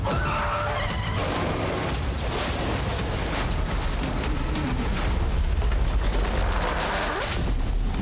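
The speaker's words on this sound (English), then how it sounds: "The truck crash sequence was huge." Stunt truck crash on a film set where a truck rolls over toward a cliff edge: loud, continuous roaring, grinding and skidding noise with heavy rumbling impacts throughout.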